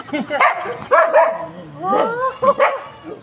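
A dog barks and yips up close in several short bursts, with a whiny, uneven pitch between them.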